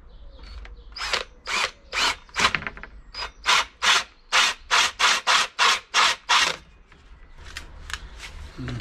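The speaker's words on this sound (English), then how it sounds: "So I'm going to use this 57mm hole cutter, which is the closest that I've got." A 57mm hole cutter on a power drill bores holes through a camper van ceiling panel for LED lights, in a rapid series of loud, rasping, roughly one-second bursts separated by short pauses, fading toward the end.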